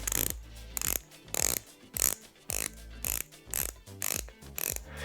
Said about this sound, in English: we have a Tag Heuer Aquaracer, which is not an affordable watch. You can argue it's expensive, but we'll listen to the quality of the bezel